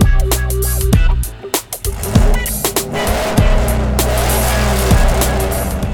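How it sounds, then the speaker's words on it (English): Chevrolet Trailblazer fitted with Kooks long tube headers and a Corsa catback exhaust, running loud and close with a deep steady rumble and sharp revving bursts. "Once we got the Trailblazer fired up, you could hear a major sound difference with the Kooks long tube headers and the Corsa Catback"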